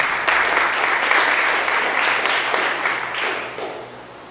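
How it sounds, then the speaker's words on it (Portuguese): A church congregation at an evening worship gathering applauds steadily and loudly for about four seconds, with dense clapping that fades slightly toward the end. "Vamos aplaudir a palavra de Deus."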